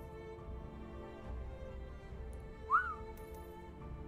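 A single short whistle in the video game Godfall, rising then falling, clear over quiet ambient game sound.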